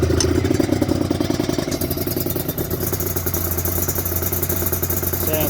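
A 1991 Suzuki RGV 250 VJ22 two-stroke motorcycle runs close and loud, a rapid crackling, popping idle with uneven rhythmic firing and slight rises in revs throughout.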